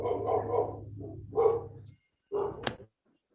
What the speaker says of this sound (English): dogs were barking